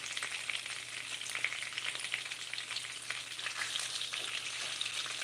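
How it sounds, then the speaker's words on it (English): Sausages frying in a pan, a steady crackling sizzle with dense popping spatters, fairly quiet and continuous throughout, with no voices. "So I think the sausages are pretty much cooked right now."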